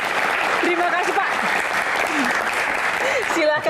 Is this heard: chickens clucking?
no